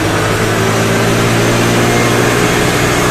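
A Honda Vario 110 scooter engine runs at raised revs, a loud, steady mechanical drone close by with no break and no voices.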